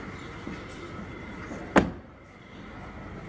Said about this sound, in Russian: Дверь легкая, тут она хлопает.